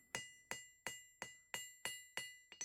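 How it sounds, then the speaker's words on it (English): A hammer strikes an anvil while forging a taper, giving about eight sharp, bright ringing blows at a steady, even rhythm. A quicker double hit comes at the end, and each ring dies away before the next strike. "the anvil is very loud."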